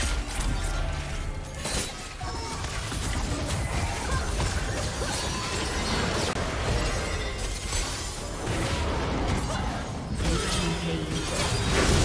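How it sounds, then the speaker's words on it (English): A turret being destroyed in League of Legends, a dense crumbling crash with mechanical, ratcheting debris sounds, loud and continuous over game ambience for several seconds. "Blue team's turret has been destroyed"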